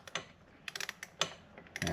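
A ratchet loosens a bolt on a Jeep Wrangler 3.6 engine, a quiet, close run of rapid clicking pawl ticks in short irregular bursts.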